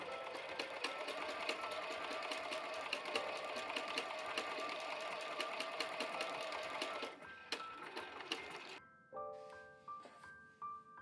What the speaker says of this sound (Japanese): これは裏布とトップと合わせてステッチしますよ。